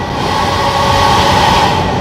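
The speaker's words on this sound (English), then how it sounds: "that noise is my fan." Cab fan running steadily inside a truck cabin on a highway drive from Arkansas to Texas, a constant close whirring drone with a broad hum and no talk over it.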